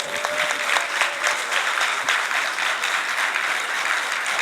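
Brisk, steady clapping from an audience at a Nigerian legislative hearing on a bill for more law school campuses, a continuous dense patter of hands at moderate distance.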